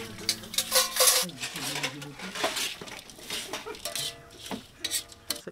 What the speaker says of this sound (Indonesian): cakalang goreng dicampurkan dan diaduk sampai merata